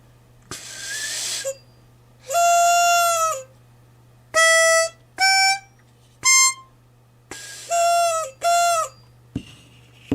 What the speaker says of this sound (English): one of these harmonicas, blows it, and it sounds like this